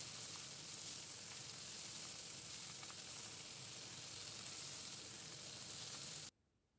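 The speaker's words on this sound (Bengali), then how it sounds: "মাছের দুপাশটাই ভালো করে ভেজে নেব।" Parse fish frying in hot oil in a pan, a continuous crackling sizzle held close and steady for about six seconds before it cuts off abruptly into quiet, with no talking.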